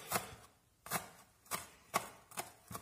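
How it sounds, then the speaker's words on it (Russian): A knife chops fresh herbs finely on a board in crisp, close, evenly spaced cuts, six sharp taps about half a second apart in a quiet kitchen. "И мелко нарубать."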